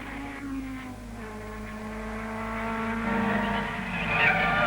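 Vintage 1961 racing cars, a BRM and a Cooper, roar past on a circuit at Paddock Bend, their engine notes rising and falling in pitch as they chase each other, loud and continuous.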